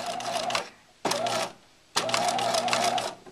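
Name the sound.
Bernina 1008 sewing machine sewing a straight stitch buttonhole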